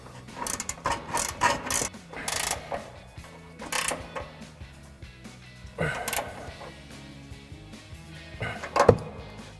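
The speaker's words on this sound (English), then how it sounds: "So we've got our 18mm wrench for our bolt head and our 21mm ratchet wrench for our nut." A 21mm ratchet wrench tightens a control arm nut on a Ford F-150 truck, with repeated short clicking ratchet strokes in irregular bursts, close and moderately loud, with no talking.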